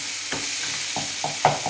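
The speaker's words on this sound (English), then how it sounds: "Final stir." Tomato curry given a final stir in a hot pan: a soft bubbling sizzle with four or five dull scraping strokes of a spoon in quick succession, close and fairly quiet, no talking.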